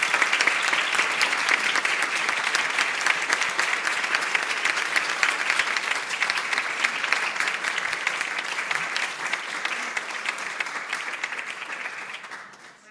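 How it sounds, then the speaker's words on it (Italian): An audience applauds to welcome speaker Nayaswami Asha, dense, even clapping from a crowd that holds steady for several seconds before tapering off. "we welcome with an applause Asha, expressing our love"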